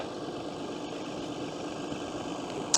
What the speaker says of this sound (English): I got the tractor warming up